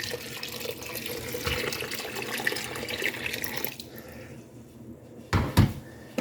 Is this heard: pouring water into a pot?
yes